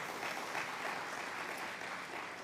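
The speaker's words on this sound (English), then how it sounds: "You can give your round of applause" Faint applause rises from a congregation during a chapel service, a soft, even patter of many hands clapping together, heard at a distance and steady for the whole stretch.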